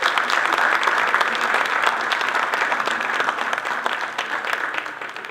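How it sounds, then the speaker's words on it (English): An audience at a construction expo gives a round of applause, a thick, continuous wash of many clapping hands at close range that holds steady and then gradually tapers off toward the end. "Let's give another round of applause for the efforts of these firms in supporting and investing in our communities"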